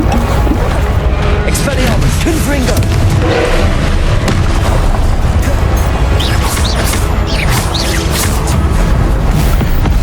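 Loud, dense booms and crashing blasts from Confringo spells cast in Hogwarts Legacy gameplay, with rapid impacts and rumbling explosions throughout. Shouted spell incantations are heard over the steady barrage.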